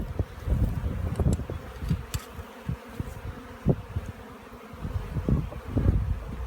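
Honey bees at an opened backyard garden hive buzz loudly and close, a dense droning swarm with gusts of wind rumbling against the microphone.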